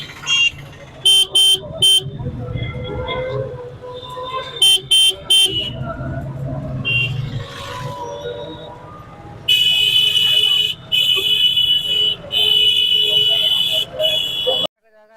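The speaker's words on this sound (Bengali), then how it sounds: "রাস্তার জ্যামটা তোমাদেরকে দেখাই।" Traffic jam on a crowded road in Puri during the Rath Yatra festival, with repeated loud car and vehicle horns honking in short bursts and then a long sustained blare, over steady engine and crowd noise with people talking.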